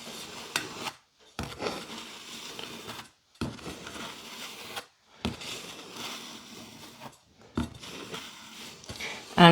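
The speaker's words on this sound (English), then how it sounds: "I'm kind of putting the buttercream back on, if that makes sense." Palette knife spreading and smoothing buttercream over a Godzilla-shaped cake, heard as soft, close scraping and rubbing strokes in repeated bursts separated by brief pauses, with no talking.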